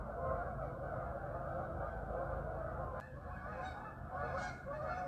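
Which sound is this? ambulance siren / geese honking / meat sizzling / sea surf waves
geese honking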